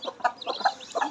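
Newly hatched chicks give a quick run of thin, high peeping chirps, close by and fairly soft, crowded into about a second.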